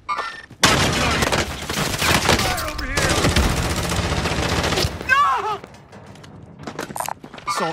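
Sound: assault rifle gunfire in Call of Duty Modern Warfare video game

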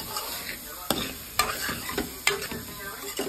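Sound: rice stir frying in a pot for asopao

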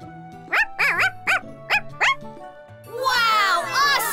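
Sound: cartoon character imitating a puppy yapping

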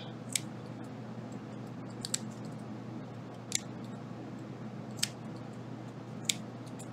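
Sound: scissors cutting needlepoint canvas

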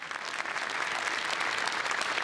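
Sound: audience applause for sponsors at awards

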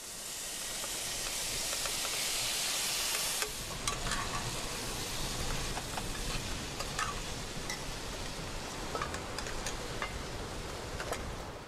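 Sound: ackee and vegetable spice mix sizzling in oil

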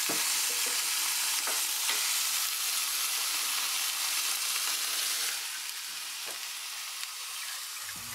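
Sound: cooling oil nearly boiling inside an oil-cooled PC

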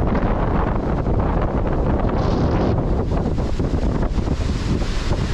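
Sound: strong wind blowing into microphone

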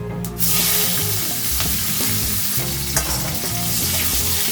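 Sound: green chilies and nigella seeds frying in oil

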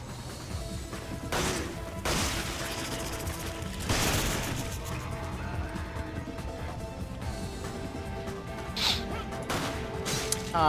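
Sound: gunshots in video game Resident Evil 5 Mercenaries

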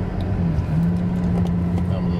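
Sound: taxi driving, engine and road noise from inside the car

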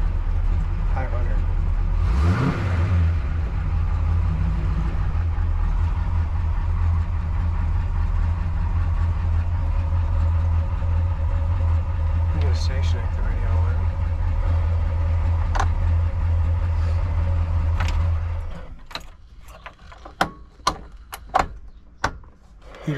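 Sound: classic car engine idling

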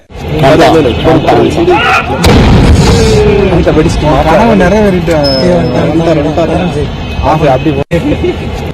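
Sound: bomb explosions set off during film shoot in tiger reserve

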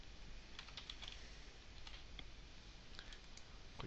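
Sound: typing a production name on a computer keyboard

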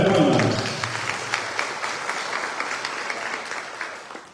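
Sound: audience applause at academic ceremony

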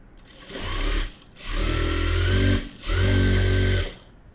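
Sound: sewing machine stitching edge of lining piece

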